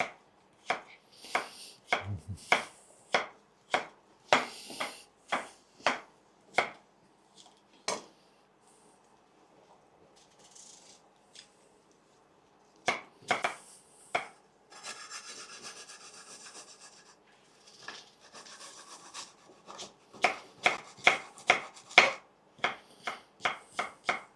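A knife chops apples on a board in quick bursts of sharp, close taps, pausing for a stretch of quieter rubbing and scraping before the rapid chopping resumes, with no voices present.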